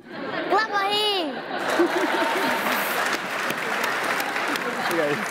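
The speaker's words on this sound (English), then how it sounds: "Clap for him." A studio audience on a kids' talk show bursts into sustained, lively clapping, with laughter and murmured chatter running through it and a voice speaking briefly at the start.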